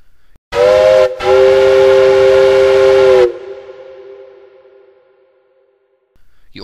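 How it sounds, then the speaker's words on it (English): A loud, close steam whistle blasts in two bursts, a short one then a long sustained tone, cutting off and leaving a fading ringing echo. "I am the fastest train, and I also have the loudest whistle."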